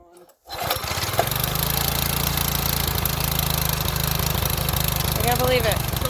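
A previously seized small engine starts after a brief quiet moment and keeps running with a loud, steady, rattling putter that lasts until the end.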